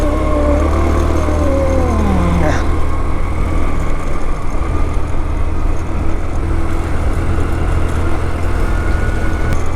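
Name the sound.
vehicle engine straining while climbing Yercaud hill road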